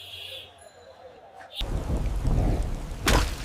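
Cartoon rain, quiet at first, then a sudden heavy downpour that bursts in and keeps hissing loudly, with a sharp thunder-like crack near the end.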